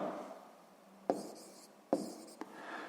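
A pen writes down the answer to a math problem: faint, close scratching with a few sharp taps from the pen on paper in a quiet room.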